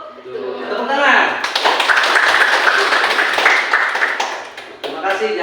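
A classroom of students claps together in a burst of quick, loud, uneven hand claps lasting several seconds, with a voice speaking briefly before and after.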